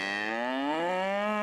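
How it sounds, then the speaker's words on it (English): A Black Angus cow at the Stockade Roundup cattle show lets out a single long, clear moo, rising slightly in pitch, close and alone. "MJT Cattle Company brought out a large show string of Black Angus cattle at this year's Roundup."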